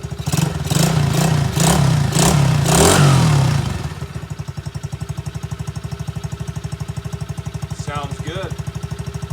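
An X-pro Bolt 110cc motorcycle engine is revved with the throttle, with a loud, raspy roar for several seconds, then it drops back to a quick, steady putter at idle.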